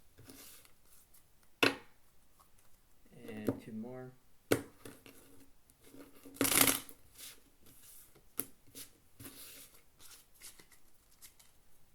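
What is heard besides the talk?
shuffling cards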